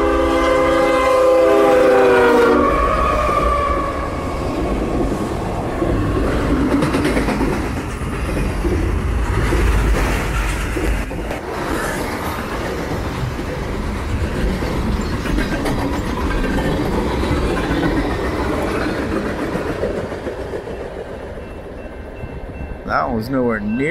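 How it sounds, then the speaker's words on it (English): A train rumbles past close by with a blaring horn at the start and steady clattering of wheels on rails, people talking faintly. "Two back-to-back trains at my favorite little stop."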